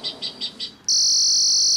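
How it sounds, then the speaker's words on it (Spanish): A bird deterrent device plays a recorded falcon call: four quick pulsing chirps, then an abrupt switch to a loud, piercing, continuous electronic tone that holds to the end. "Este es un sonido de un halcón."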